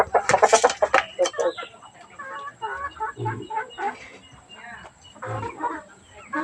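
A large white chicken clucks close by in a backyard coop, loud rapid calls at first and then softer intermittent clucks, with someone talking over parts of it.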